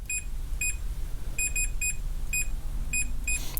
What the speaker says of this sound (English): I'm going to put one side of my multimeter on this ring here. I've got it set to the continuity test,